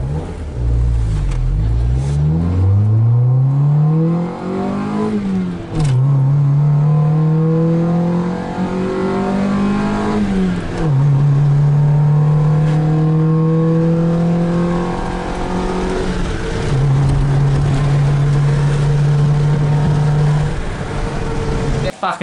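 A Honda EK Civic fitted with a cold air intake, its engine revved repeatedly: loud sweeping climbs and drops in pitch, then held high idles between blips, close and dominating with no talk over it.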